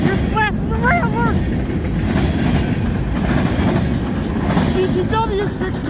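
CN freight train M347, known as The Rattler, rolls past at Ladysmith with a loud, continuous rumble and clatter, and high wheel squeals cut in near the start and again at the end.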